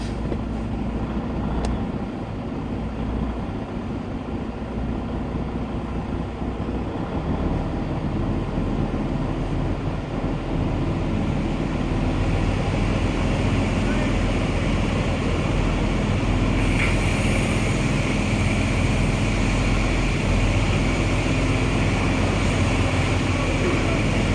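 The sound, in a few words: big rig truck engine pulling away in gear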